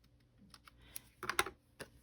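A paper trimmer cuts a paper bag tag at a craft table. There are soft scattered clicks and a brief gritty slicing burst, quiet and close, with no talk.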